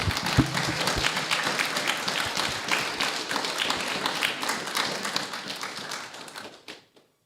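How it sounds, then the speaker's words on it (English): A room of people at a town council annual meeting in Evesham applauding with steady, dense clapping for several seconds before it tapers off and stops. "a round of applause, please"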